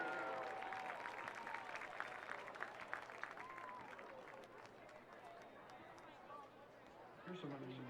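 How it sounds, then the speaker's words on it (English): A stadium crowd at a high school football game applauds its halftime entertainers in a long, continuous roar of clapping and chatter, with voices and brief whistles or horn-like tones rising above it and a low burst near the end. "How about a big round of applause for all of our halftime entertainers."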